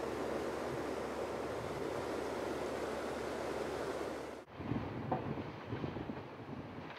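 River water rushes steadily at an irrigation weir intake in Afghanistan, a broad, even roar that cuts abruptly to a quieter, choppier flow with light splashing.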